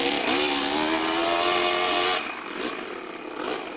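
A four-cylinder four-stroke nitro RC engine in a rat rod build runs loud and close, a buzzy, steady high-pitched drone that holds its pitch for about two seconds, then drops and wavers through a few small rev blips.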